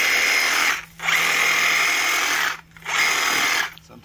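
A gas weed eater trimming bushes outdoors, its high whining motor running in three sustained bursts with brief drops between them, loud and close with no talking.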